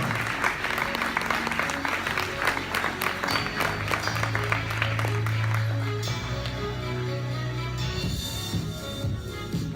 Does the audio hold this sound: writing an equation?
no